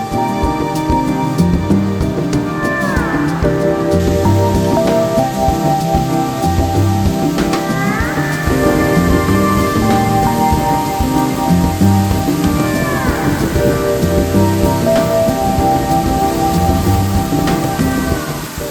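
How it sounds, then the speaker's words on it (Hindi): A loud, continuous roar of rushing water like a waterfall, dense and unbroken, with faint tonal sweeps drifting through the background. "बारिश भी हो रही है इसलिए फ्लो भी अच्छा खासा है"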